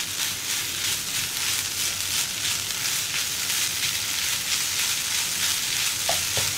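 Soya chunks seasoned with salt are stirred and mixed in a hot pan over a high flame. A loud, continuous sizzle with scraping stir sounds runs alone throughout.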